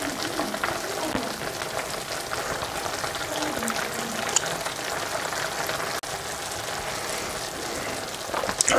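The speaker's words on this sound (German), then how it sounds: "So, jetzt ungefähr circa auch noch 20 Minuten lang köcheln lassen." A sweet potato and lentil soup simmers in a pot, giving a steady, soft bubbling and sizzling hiss that goes on without a break at moderate level, with no talking over it.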